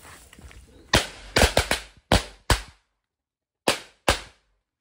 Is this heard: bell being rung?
no